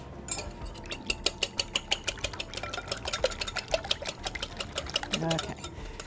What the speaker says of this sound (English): And this sort of breaks up the eggs a little bit. And we'll whisk that.